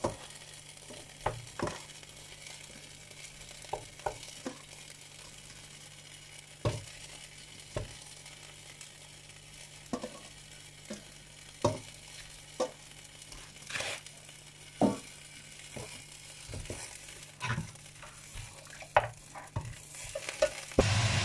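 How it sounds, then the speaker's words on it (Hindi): Meat browning in about a quarter cup of hot oil for Lucknowi nihari, with a quiet continuous sizzle broken by repeated scraping and stirring clatters at an irregular pace, with no talking. "ये हम बुनाई कर रहे हैं गोश्त की।"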